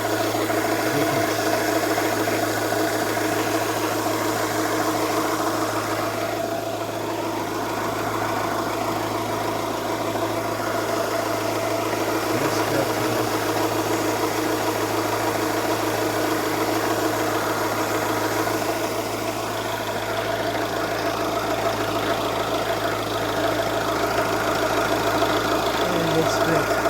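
A car engine idles steadily after an oil leak repair, a constant mid-pitched running hum with light rattle, heard close by for the whole stretch, with no speech over it.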